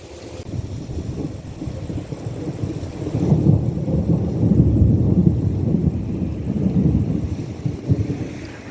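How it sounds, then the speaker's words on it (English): Loud thunder rolls through a desert storm, a deep rumbling that swells in the middle and lingers, with wind buffeting the microphone and no voices. "That's some loud thunder."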